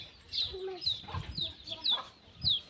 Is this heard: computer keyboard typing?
no